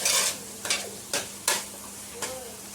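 Spice masala for chicken sukka sautéing in a pan, a steady sizzle broken by four or five distinct scraping stirs of a spoon, close and fairly quiet, with no talk.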